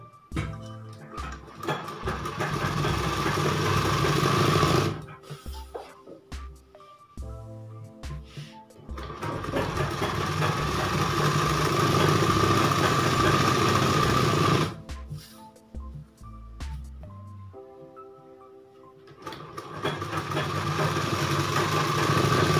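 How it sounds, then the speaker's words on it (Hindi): Sewing machine stitching along the hem of a girl's skirt, a loud, steady motor whir in long runs broken by brief pauses and stop-start bursts of stitching, close and with no talking. "ऐसे ही पूरे घेर में सिलाई को लगा लेंगे।"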